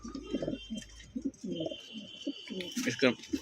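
Pigeons cooing in a loft: repeated close, throaty coos in quick bursts, with someone talking over them.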